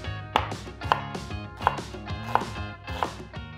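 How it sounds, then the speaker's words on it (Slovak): Onion being finely chopped with a knife on a board, with five evenly spaced, sharp, close chops in a steady rhythm and no speech. "Cibulu si nakrájam na drobno."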